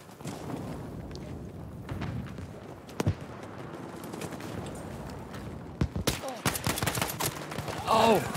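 Rapid bursts of video game gunfire from a Fliegerfaust match, with dense overlapping shots and machine-gun rattles, a few sharper louder cracks near the end.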